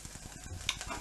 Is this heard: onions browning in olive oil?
yes